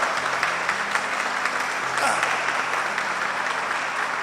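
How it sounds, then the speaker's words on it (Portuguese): A large church congregation applauds steadily, a dense, even wash of clapping that holds at the same level throughout. "Vamos aplaudir a Cristo, irmão, por esta obra gloriosa."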